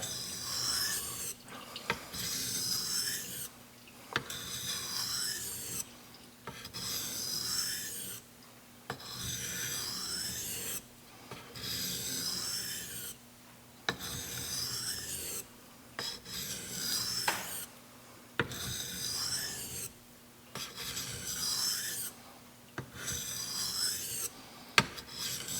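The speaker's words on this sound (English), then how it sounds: "Cutting strokes now. Nice clean stone, nice aggressive bite." Custom Chris Reeve knife drawn across a clean whetstone in cutting strokes: a rhythmic series of about a dozen close, even rasping scrapes separated by short pauses.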